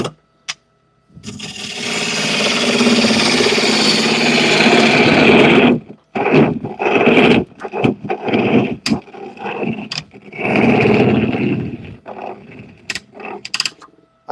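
A bowl gouge cuts cherry wood spinning on a lathe, first a long loud continuous roaring scrape, then a series of shorter cutting bursts with brief pauses between.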